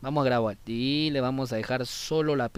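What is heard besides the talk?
No distinct noise like a dog, phone or traffic.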